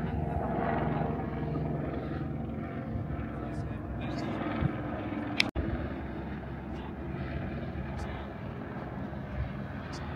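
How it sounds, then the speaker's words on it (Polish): A helicopter drones steadily overhead above a rainy mountaintop campsite at Preikestolen, a low, continuous rotor rumble that holds at moderate distance throughout, broken by a single sharp click. "I helikopter lata."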